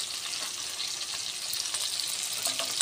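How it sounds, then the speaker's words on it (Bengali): Fish, shrimp by the surrounding context, fries in a pan at home, giving a steady, close sizzling crackle with frequent small pops, loud and continuous throughout with no voices present. "আস্তে আস্তে একটু একটু বেশি তাপ বাড়াচ্ছি, আবার কমিয়ে দিচ্ছি, এরকম করে ভাজছি"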